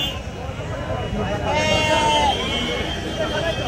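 Rams bleat once at an outdoor livestock gathering in hot weather, a nasal wavering call that rises over steady crowd chatter and nearby voices.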